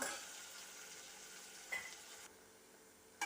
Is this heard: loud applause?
no